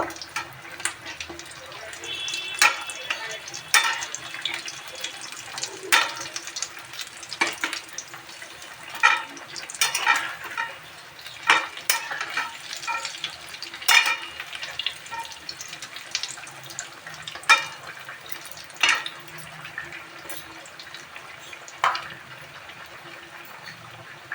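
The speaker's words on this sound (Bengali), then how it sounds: "আলুর চপগুলো ভাজা হয়ে গেল" Potato chops deep-frying in oil, a low steady bubbling sizzle punctuated by frequent clicks and clatters of utensils, fairly faint and close.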